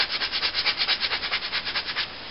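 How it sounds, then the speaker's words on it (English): Small hand-held piece of really coarse sandpaper rubbed back and forth on a wooden knitting needle, a fast, even train of about twenty raspy strokes, close and fairly quiet. "just a short little piece of really coarse sandpaper, that there, that's a doddle to do compared with trying to scrape that with a knife"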